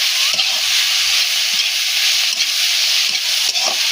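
Leafy greens and vegetables fried in oil, with a constant loud hissing sizzle filling the clip and a few soft spatula knocks scattered through it, heard up close with no talking.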